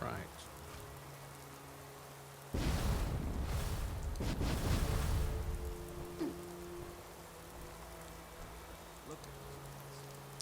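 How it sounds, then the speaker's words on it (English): Rain pours steadily in a Fallout 4 game scene, a soft hiss that swells sharply into a heavier downpour with a rumble, then eases back to a lighter patter. "Let us have a conversation out here in the rain, shall we?"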